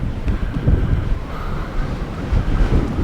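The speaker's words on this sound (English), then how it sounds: "Wind's gusting a bit." Gusty wind buffets the microphone high on a fell above Styhead Tarn in the Lake District, a steady loud low rumble that swells and dips in waves for about three seconds, with no talking.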